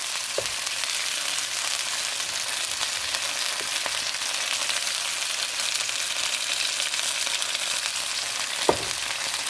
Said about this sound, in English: Get a nice little sear on there, like you would do a steak.